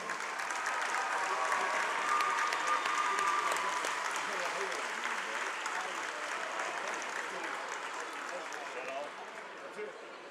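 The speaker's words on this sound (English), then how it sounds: "Join us in giving Summertown Girls Golf Team a huge round of applause for" Audience in a school gym applauding a girls golf team during a basketball game broadcast, steady crowd clapping throughout, fairly distant and gradually fading.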